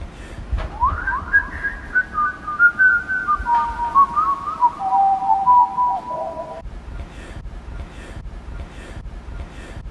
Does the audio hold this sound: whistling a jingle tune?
yes